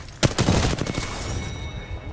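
Rapid gunfire in the video game Apex Legends, a quick burst of close, loud shots that fades into a ringing tail, with no talking.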